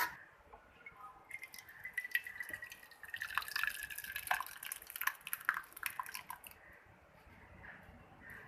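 Sheer khurma, a milky vermicelli dessert with cardamom powder, poured into a serving dish, with wet drips and soft splashes running for several seconds; no voices.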